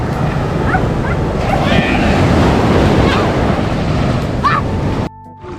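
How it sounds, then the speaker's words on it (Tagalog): Heavy surf, rough after recent rain, roars and crashes continuously close by at Pundakit in the Philippines, with a few faint high yelps over the wash before it cuts off abruptly. "Kaya siya medyo malakas yung uh, alon kasi kauulan lang dito."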